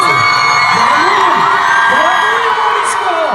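An audience at a fan event cheers and whoops as a queen is welcomed, a loud crowd roar with yells and high shouts rising over a steady din for a few seconds.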